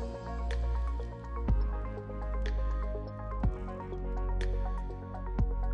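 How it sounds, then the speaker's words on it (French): A liquid water-product mixture drips and plops from a bag into a bucket holding cork coating product, three distinct wet drops at even two-second intervals over a steady low hum, close and fairly quiet. "versez ce mélange dans le seau où se trouve le produit"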